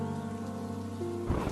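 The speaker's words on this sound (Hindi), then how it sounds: "पूरे गांव की दीवारें बारिश से ठंडी हो चुकी थी। बिजली कड़कती तो पल भर के लिए पूरे गांव में रोशनी छा जाती" Heavy rain falls on a village at night as a steady, faint hiss under a low droning tone, and a burst of thunder breaks in near the end.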